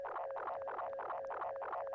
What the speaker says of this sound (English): it's like this intense feedback thing